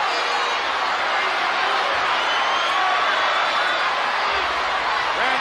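A large wrestling arena crowd at SummerSlam 1992 roars loudly and continuously for Randy Savage versus the Ultimate Warrior, a dense, unbroken wall of cheering and noise filling the whole stretch.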